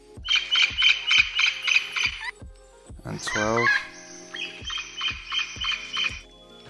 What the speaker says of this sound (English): They sound like they're perhaps birds, flying around